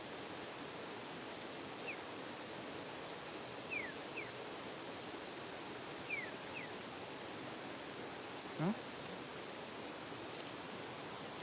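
Water flows in a steady, even rush that holds at one level throughout, faint and continuous with no voices.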